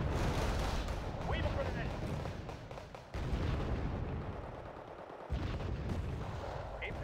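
CAESAR artillery fires in the war game Wargame Red Dragon. Heavy booms and rumbling battle noise fill the scene, with two sharp new blasts partway through and faint talk underneath.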